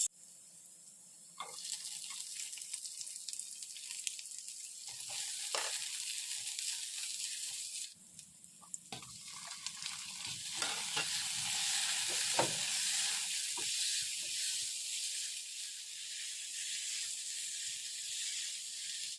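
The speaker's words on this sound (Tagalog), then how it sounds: "Maglagay lang ng kaunting mantika sa kawali at pagkatapos ay magigisa naman tayo dito ng bawang sibuyas at kamatis" Garlic, onion and tomato sizzle in hot oil in a pan, a broad steady frying hiss that swells louder midway, with occasional clinks and stirring sounds.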